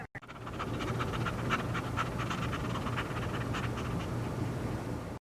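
A dog named Spots pants steadily and rapidly in the video game Harvester, with close, rhythmic breaths over a low steady hum, and no talking.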